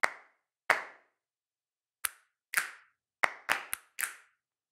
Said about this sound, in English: And last are the snaps and claps.